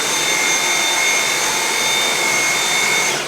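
A cordless vacuum cleaner runs steadily in an apartment with a high, whining motor hum, close and continuous, then starts to wind down at the very end.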